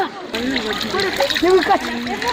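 A cloth being rinsed and squeezed by hand in a basin of water with vinegar added: close sloshing and splashing, with people talking over it.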